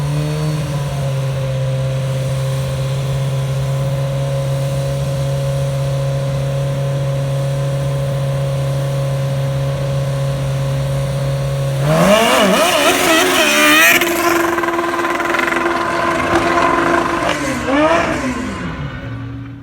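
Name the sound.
Kawasaki ZRX 1100 drag motorcycle revving during drag strip pass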